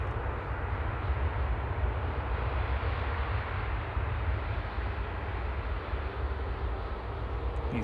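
An EasyJet airliner from Jersey rumbles steadily at an airport, a constant low broadband roar of jet engines holding at even loudness throughout with no talk.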